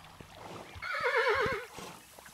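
Horse in the video game Kingdom Two Crowns lets out a single wavering whinny, loud and close, with light hoof clops before and after.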